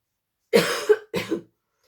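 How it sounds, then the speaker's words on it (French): Two sharp coughs in quick succession, close and clear against silence. "j'ai beaucoup parlé, je tousse"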